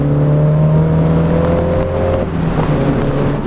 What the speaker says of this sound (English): There are two stainless steel tubes, and this is the exhaust, and that exhaust makes this noise.